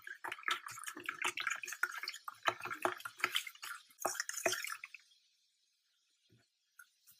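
Compost stirred into water at one part compost to five parts water, giving a run of close splashing, sloshing and dripping that stops abruptly after about five seconds, leaving near silence with a couple of faint drips.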